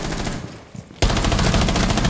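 Rapid automatic gunfire in a video game custom match: a quiet stretch with a few scattered sounds, then a loud, sustained burst of fast shots.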